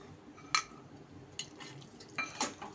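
A spoon stirs curd into chicken pulao in a cooking pot. A few faint metallic clinks and scrapes sound close by, with quiet pauses between them.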